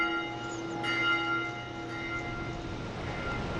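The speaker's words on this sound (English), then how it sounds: "The lunch bell cometh." In the game Dark Souls 2, a large bell rings with a sustained metallic hum and lingering overtones, struck once or twice over a steady droning background, with no voices.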